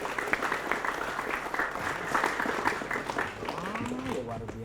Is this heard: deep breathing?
no